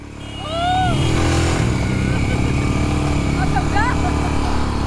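A Royal Enfield Himalayan motorcycle engine labours up a steep mountain road, its loud, steady drone rising in and holding close, with voices over it.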